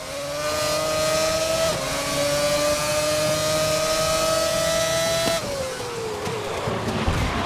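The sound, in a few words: racing car engine in a video game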